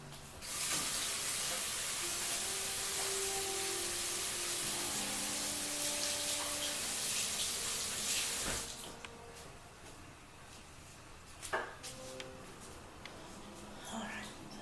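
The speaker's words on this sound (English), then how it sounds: "Alright, wash my hands again." A kitchen tap runs steadily while hands are washed, a broad close hiss of water for about nine seconds before it shuts off, then a few faint clinks and handling sounds.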